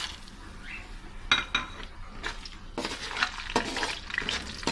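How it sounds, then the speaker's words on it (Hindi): Dry whole spices (bay leaf, black peppercorns, cinnamon sticks, black cardamom, cloves) fry with browned onions for chicken mandi, a soft sizzle under intermittent scraping stir strokes and light metal clinks, with no voices. "हल्का सा इसको फ्राई करेंगे।"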